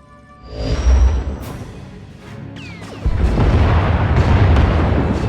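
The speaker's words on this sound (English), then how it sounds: "Enemy is firing. Turbo lasers, missiles, and what looks like transport pods." A Thranta-class enemy warship fires turbo lasers and missiles in a space combat game, producing loud deep booms and blasts, with a rising whoosh and a dense rumbling barrage that fills the last half.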